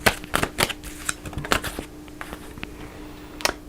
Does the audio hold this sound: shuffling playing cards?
yes